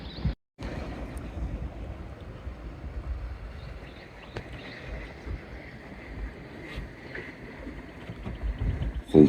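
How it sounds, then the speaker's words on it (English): Wind buffeting across a beach at Island Head Creek, a steady rough rumble with gusty swells rising and falling, close and moderately loud, no voices. "the wind spoils it"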